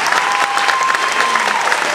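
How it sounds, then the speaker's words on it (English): A brief burst of dense audience clapping at a stand-up comedy show, loud and steady for two seconds. "So give yourself a big round of applause."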